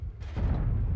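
Artillery fire in the World of Tanks video game: a deep, heavy boom lands partway through and rolls on as a low rumbling roar, loud and close, with no voices.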